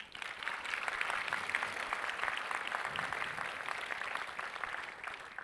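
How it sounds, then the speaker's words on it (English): A graduation audience at Easthampton High School applauds steadily, a dense wash of many hands clapping at a moderate distance throughout, with no talk over it. "Can we have a round of applause for them again, too?"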